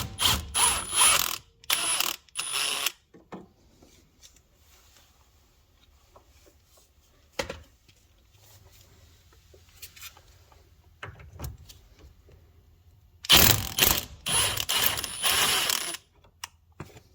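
A ratchet wrench loosens 12mm bolts on a 2008-2014 Subaru WRX STI steering rack, with loud bursts of rapid clicking at the start and again near the end, separated by long quiet stretches of faint handling.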